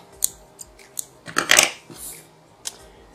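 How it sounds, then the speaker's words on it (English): Scissors snip string while a horsehair bookmark is being made, several sharp close clicks and a brief crunchy cut cluster in the middle, quiet between snips. "Cut the string off."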